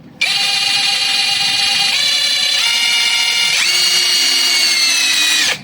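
A HUJIA 128V cordless impact wrench runs continuously for over five seconds with a loud, close, high-pitched motor whine that steps down in pitch a few times as the trigger speed changes, then stops.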